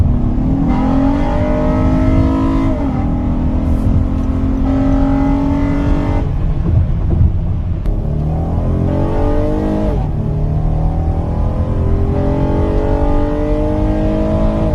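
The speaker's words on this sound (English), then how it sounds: "Isn't it incredible that the best sounding Honda" A Honda minivan engine revs hard and climbs through gears, a loud, steady roar rising in pitch with brief drops between shifts, close and continuous.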